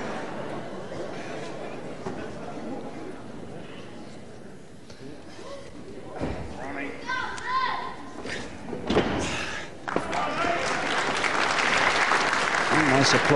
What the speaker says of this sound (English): Applause from a packed crowd here at the Lewisham Concert Hall here in Catford